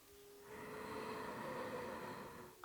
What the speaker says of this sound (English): Tensing back of nose and throat so you can hear your breath.